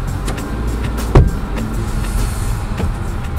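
A car rolls steadily out of Kruger Park in South Africa, its engine and road noise a continuous close hum with one brief louder thump partway through.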